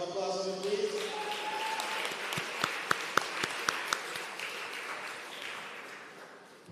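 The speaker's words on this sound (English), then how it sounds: "Give Miss Mortelli a round of applause, please." Modest applause at an annual general meeting: a brief voice gives way to a loose spatter of claps from a small audience, a few sharp hand claps standing out before the sound tapers off.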